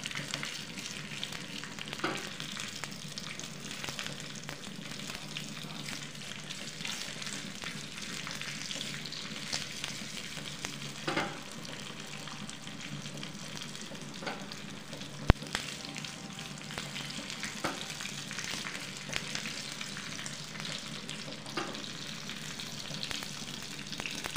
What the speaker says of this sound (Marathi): मस्त वाटीमध्ये तडका बनवून घ्यायचा.